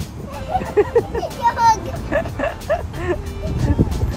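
A dog barks and yips from inside a car, several short barks and a whimper scattered over a few seconds, close by, with people talking and laughing around it.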